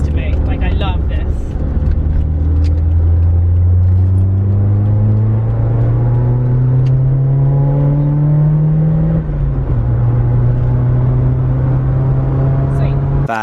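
A Toyota AE86 driven on Irish roads, its engine note climbing steadily through the revs under load, briefly dropping at a gear change, then holding a loud, continuous drone close to the cabin; talk runs over the engine.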